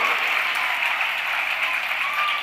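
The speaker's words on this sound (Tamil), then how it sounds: "120 பேர் தான் கை தட்டி இருக்கீங்க" An audience at a women's day celebration claps steadily, a dense, even wash of many hands applauding throughout without a break.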